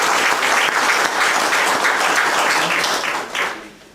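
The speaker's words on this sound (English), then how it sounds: "I just want to give you a round of applause." A crowd applauds steadily, dense clapping that holds for a few seconds and then fades away.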